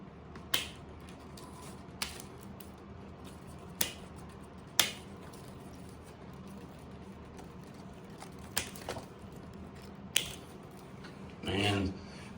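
Pruning clippers snipping grafting ties off a freshly wedge-grafted mango tree, a handful of sharp isolated clicks spaced across a quiet outdoor background, with a brief rustle near the end.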